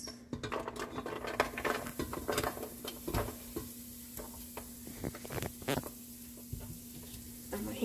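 Onions and vegetables saute in a pan for a chickpea potpie, a steady sizzle with a constant hum beneath and repeated stirring scrapes and clicks, close and moderately loud.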